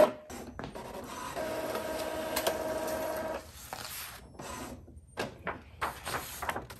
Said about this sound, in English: And you can hear the nozzles cleaning the printer right now.